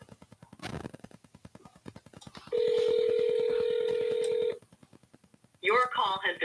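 Telephone call tones over a live cold-calling session: faint rhythmic clicks, then a steady electronic tone held for about two seconds, followed by a short burst of warbling tones.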